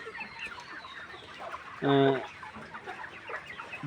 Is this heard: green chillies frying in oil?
no